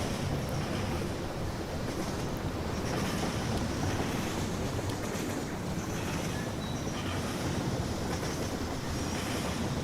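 Rolling, continuous rumble of model trains running on a virtual railroad layout in the VR game Rolling Line, a steady wash of track noise with no pauses or voices.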